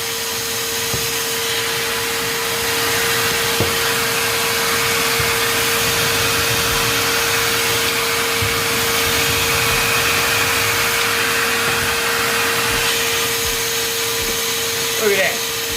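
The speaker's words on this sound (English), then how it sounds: "We all know that shop vacs aren't quiet by any means" A shop vac roars steadily for about sixteen seconds as it sucks wood chips from a pocket hole jig, a loud constant whooshing drone with a sustained motor whine, punctuated by faint clicks and rattles of debris.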